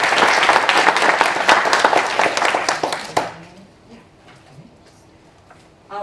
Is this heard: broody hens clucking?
no